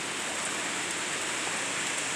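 Heavy rain pours down outdoors in a dense, constant hiss of drops hitting surfaces, steady and enveloping with no pauses or voices.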